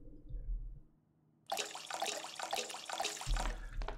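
Water splashes into a bowl for a recipe in the Bakery Simulator video game, a steady close pour that starts suddenly after a quiet moment and runs for about two seconds over low background hum.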